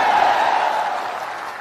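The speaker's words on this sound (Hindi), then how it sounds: "अब बजाइए ताली।" A crowd at a political rally in Bihar claps and cheers in a loud, dense, steady wash of applause that fades slightly toward the end, with no talk over it.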